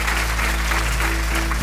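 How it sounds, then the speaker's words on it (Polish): Audience applause for a choir at a televised Polish quiz show, a steady, dense wash of clapping from a large crowd, loud and continuous throughout with faint hum underneath. "Brawa dla naszego chóru,"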